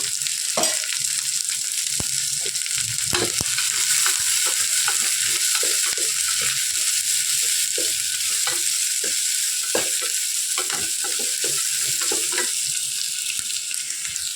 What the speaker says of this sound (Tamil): அதை இதோட ஆட் பண்ணிக்கலாம் வெங்காயத்தை நல்லா ஓரளவுக்கு வதக்கிடணும்